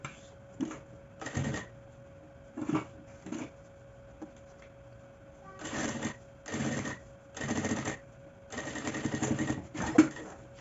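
Sewing machine stitching across the end of a zipper on a small baguette bag, running in several short bursts of rapid mechanical whirring separated by pauses, close and fairly loud with no talking.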